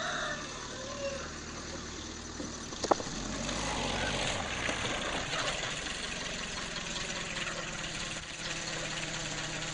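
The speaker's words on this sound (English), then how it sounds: "he's got that tractor fired up. I hear it running." A tractor engine runs steadily at a distance, a low continuous drone with a brief sharp knock partway through.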